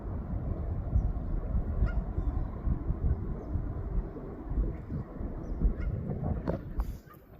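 Geese honk repeatedly beside a canal on a windy walk, their calls mixed into constant gusty wind noise, fairly close, with a few sharper calls toward the end.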